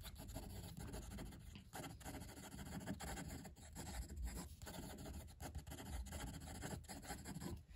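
Muji fountain pen writing fast across paper, a continuous dense scratchy rasp of nib on paper with quick irregular strokes, close and steady with no talk.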